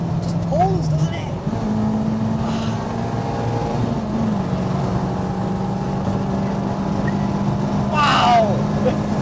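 Renault 5 Campus with a naturally aspirated 2.0 engine pulling hard under load, a sustained loud engine drone with pitch shifts, close up, with voices talking over it.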